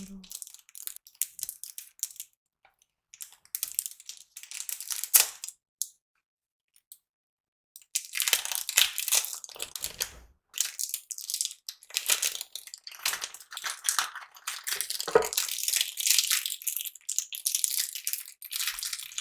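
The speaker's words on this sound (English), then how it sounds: "let's open up our first deck." Cellophane wrap being torn and crinkled off a new deck of Dominion board game cards, close and crisp, in bursts of crackling with brief pauses between.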